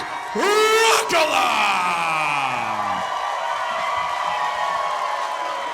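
A fight crowd roars and whoops for fighter Hannah Rokala at a USFFC event, and the loud cheering carries on under an announcer's long, drawn-out call of her name.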